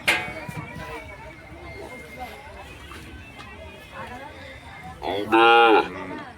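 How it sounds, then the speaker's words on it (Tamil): A native-breed cow lets out a loud, drawn-out moo close by near the end, after quieter ambient noise and faint voices at a temple chariot festival in Anthiyur. "நாட்டு மாடு நாட்டு மாடு தானப்பா"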